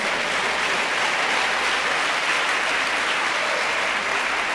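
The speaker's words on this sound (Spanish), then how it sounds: "Dale un aplauso al Señor" A crowd applauding loudly and steadily, a dense wash of clapping that holds at the same level throughout, with no voices standing out.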